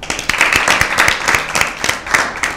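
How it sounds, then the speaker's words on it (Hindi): A Bible quiz audience applauding a team: a smaller group clapping close by, with distinct, uneven individual claps standing out in a loose rhythm for a couple of seconds, and no talking. "टीम ए के लिए तालियां।"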